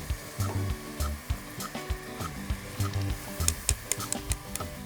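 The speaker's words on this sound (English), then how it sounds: "And we'll keep whisking that together." Whisk beating infused milk into a thickening dessert mac and cheese sauce, quick rhythmic metallic taps and scrapes against the pan in a steady repeating pattern, close and clear with no talking.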